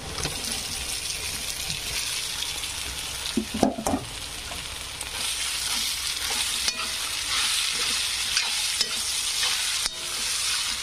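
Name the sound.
poha being added and stirred in a pan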